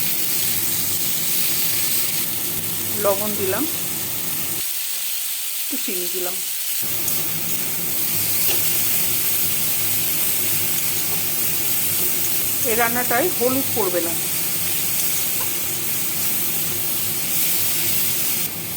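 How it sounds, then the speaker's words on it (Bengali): Tomatoes frying with onions in a pan for a homemade paneer dish, a continuous sizzle and hiss running beneath someone talking, with a few clinks of stirring. "পেঁয়াজের সঙ্গে টমেটোটা আমি একটু ভেজে নেব।"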